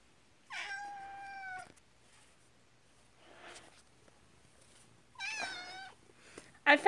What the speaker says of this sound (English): I found my kitty!